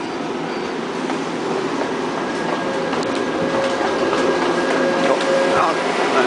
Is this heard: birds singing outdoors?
no